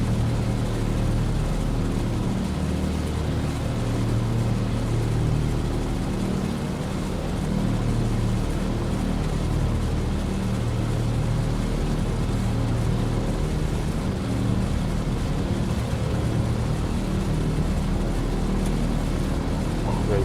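Beechcraft 18 twin radial engines held near 1100 RPM while taxiing in a flight simulator mod, a steady, loud, low droning rumble that runs continuously throughout without pause.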